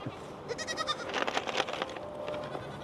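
Goats in a pen bleating in quick, overlapping calls, several animals close by and loud, with a rapid burst of cries in the middle of the stretch.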